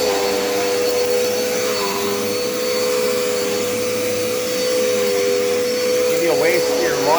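A Dirt Devil Endura Reach vacuum cleaner runs over a cheap thin rug, its motor a loud steady whine throughout with slight shifts as it moves and a voice faintly heard near the end.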